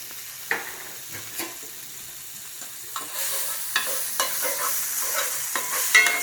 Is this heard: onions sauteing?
yes